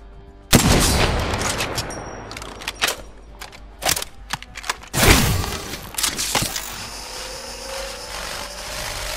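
Gunfire in the shooter game Apex Legends, with loud close single shots and short bursts cracking at irregular intervals over a steady background hum, some shots tailing into ringing echoes.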